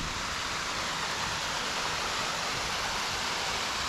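A partly frozen waterfall at Hathaway Preserve on Ross Run flows strongly, a steady, even hiss of rushing water with no talk over it.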